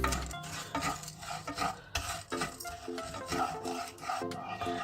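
Sugar caramelizing in a pan over a medium flame while it is stirred constantly. Busy scraping and rubbing strokes run over a low fry, close and continuous, with no talk.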